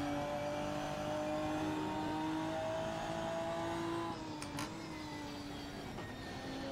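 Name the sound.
race car engine revving in a racing video game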